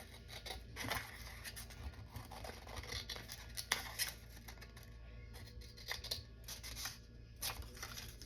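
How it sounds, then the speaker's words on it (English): Scissors cut a sheet of 8½ x 11 paper in half with a series of close, crisp snips and slicing scrapes over a low steady background hum. "we're going to cut that in half"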